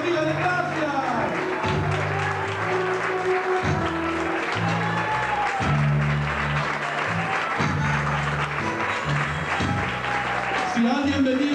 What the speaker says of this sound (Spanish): Si alguien venía, sigue aplaudiendo.